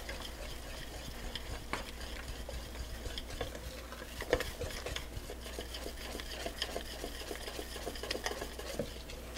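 Chocolate morsels stirred into a thick fudge mixture in a pot, a quiet scraping and sloshing with soft spoon knocks against the pan, close and low-level with no talk.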